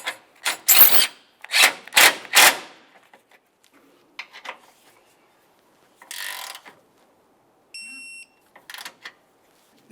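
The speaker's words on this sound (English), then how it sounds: "Start in your mounting bolt, snug it up, and torque it to 22 foot-pounds." A ratchet snugs and torques an A/C condenser mounting bolt on a 1998-2002 Lincoln Navigator, giving several short, loud rasping clicks early on and then quieter scattered ratcheting and tool handling.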